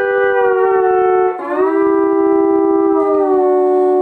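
Sustained pedal steel guitar chord that bends smoothly upward to C partway through, ringing clear and close with no talking.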